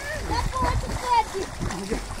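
Someone jumps into a round village pond, making a splash and churning water amid loud, excited voices of people talking and shouting nearby.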